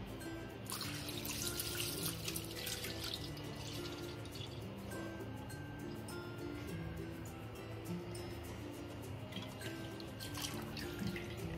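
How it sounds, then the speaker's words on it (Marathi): Milk pours into a thick iron wok that already holds a little water, making a faint, steady trickling and splashing that continues evenly throughout with no talk. "त्यामध्ये आपण दूध टाकतोय."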